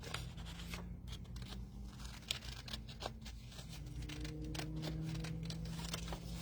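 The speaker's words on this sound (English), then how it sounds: "I can take these and put them out here, and I can fussy cut them real quick" Scissors fussy-cut small paper pieces for a ripped-frame papercraft layout, a busy run of quick snips and rustling paper throughout, close and steady, with no talk.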